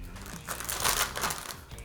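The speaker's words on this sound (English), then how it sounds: "Now I'm gonna get a plastic bag," A plastic bag crinkles and rustles up close for a moment, a short burst of crackly handling noise.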